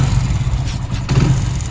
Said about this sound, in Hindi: मैं आपको दिखा देता हूँ गाड़ी स्टार्ट करके